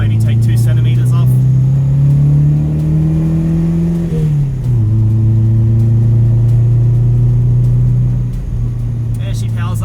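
A Toyota Corolla KE55 engine pulls hard while driving, a loud steady drone whose pitch climbs through the revs, dips at a gear change, then holds steady before easing off near the end, with no talk over it.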